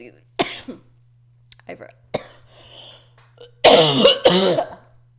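A person coughs and clears their throat in sharp, scattered bursts, ending in a harder, longer fit of coughing; quiet hum underneath.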